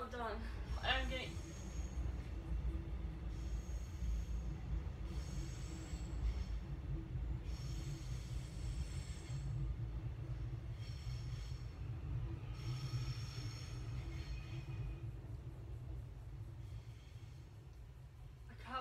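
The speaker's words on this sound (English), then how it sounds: "I can't wait till we're no longer living in right near a train station." A train passing near a station, a long rumble with squealing wheels and screeching metal tones rising and fading, heard indoors at moderate distance under ongoing talk.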